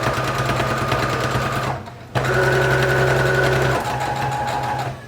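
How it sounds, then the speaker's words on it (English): A Brother PE800 embroidery sewing machine stitches a tag into the edges of a baby blanket, a steady loud motor whir with fast needle rattle that stops briefly midway, then resumes. "while I'm sewing along the edges, I'm gonna sew this tag in as well."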